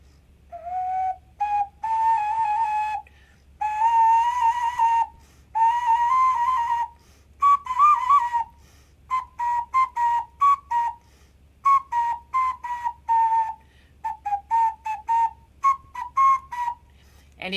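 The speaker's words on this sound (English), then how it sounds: "This is an ocarina." A cheap plastic ocarina playing a simple melody of breathy, pure whistle-like notes with short pauses between phrases, clear and close, with no voices.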